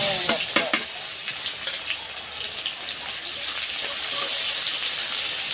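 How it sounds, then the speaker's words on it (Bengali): Sliced onion frying in hot oil with cumin seeds and dried red chillies, a dense, steady sizzle up close with a few sharp pops and spatters near the start, no talking. "পেঁয়াজটা একটু ভেজে নেব।"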